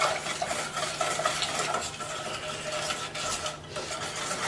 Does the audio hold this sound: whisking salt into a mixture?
yes